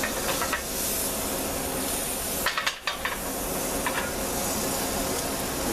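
Hoe cake batter hitting a hot cast iron skillet, a steady close hiss and sizzle broken by a brief clatter and a short pause partway through.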